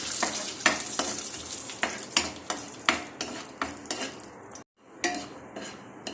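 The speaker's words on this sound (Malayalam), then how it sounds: "കടായിൽ നെയ്യൊഴിച്ച് ചൂടായിട്ടുണ്ട്. ഇതിലേക്ക് കാഷ്യൂനട്ട് ഇട്ടു ആദ്യം വറുത്തെടുക്കാം." Cashew nuts fry in hot ghee in a kadai, a soft continuous sizzle under rhythmic scrapes and clinks of a spoon stirring against the metal pan.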